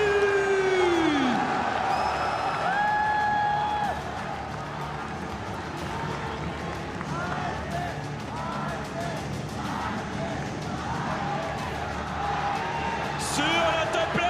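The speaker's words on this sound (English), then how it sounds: "Encore une fois, un tonnerre d'applaudissements pour les" Esports crowd cheering and applauding at a League of Legends Mid-Season Invitational semifinal, a steady roar of whoops and claps throughout with a whistle near the start.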